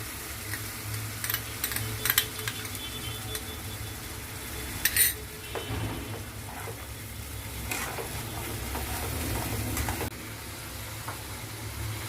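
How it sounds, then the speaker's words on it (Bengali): Onion being stirred in a pan with ginger-garlic paste added while cooking a Bengali fish dish; steady sizzling frying runs throughout with a few sharp metallic scrapes and clinks of a spoon against the pan, no talking. "পেঁয়াজটা একটু নাড়াচাড়া করে দিয়ে আমি এবার আদা রসুনের পেস্টটা দিয়ে দিচ্ছি।"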